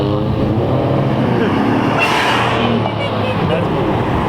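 A car with an 850 horsepower engine roars loud and steady at a car meet, swelling in a brief rising surge midway, with people talking over it.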